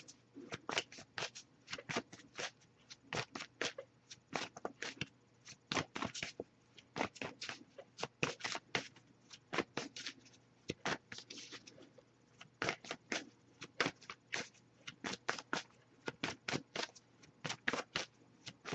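Tarot cards being shuffled continuously, a quick irregular patter of crisp riffling flicks, close and fairly quiet with no talking.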